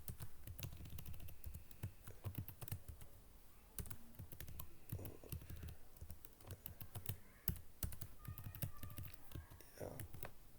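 Code is typed on a computer keyboard in quick, uneven bursts of soft clicking taps, close and fairly quiet, with short pauses between runs of keystrokes.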